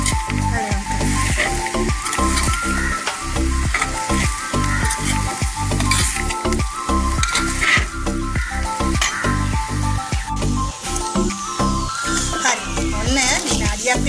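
Jackfruit seeds sizzle and fry in a pan while being stirred, a loud continuous hiss broken by rhythmic scraping strokes of a spoon against the pan throughout.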